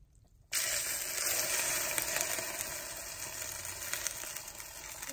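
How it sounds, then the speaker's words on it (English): Chaffle batter sizzles steadily inside a hot waffle maker, a sudden loud hiss that begins after a brief quiet moment and holds at a constant close-up level. "I'm just gonna put it into the waffle maker"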